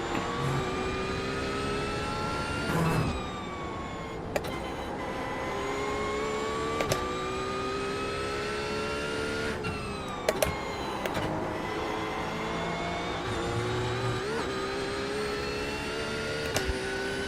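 Race car engine in the iRacing sim at the Nurburgring drones loud and steady throughout, its pitch climbing and dropping through gear shifts and corners, with brief sharp blips as it downshifts.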